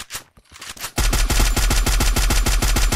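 A gun in Free Fire opens up after a short quiet lead-in, loud rapid automatic shots in a fast even rhythm that continue to the end, close and with no voice over them.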